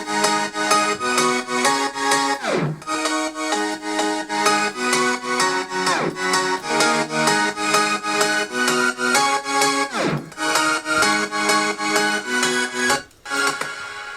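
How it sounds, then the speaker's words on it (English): A Nexus tropical stack piano preset plays bright, layered chords in a steady, looping rhythm with little low end, and brief downward pitch sweeps mark the phrase turns. "which is also Nexus, but then the famous tropical stack piano"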